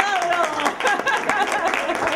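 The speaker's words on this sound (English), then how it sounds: "Oh, an applause." Brief burst of applause for someone during an interview, scattered hand claps under overlapping voices that keep talking throughout.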